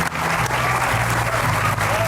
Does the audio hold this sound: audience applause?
yes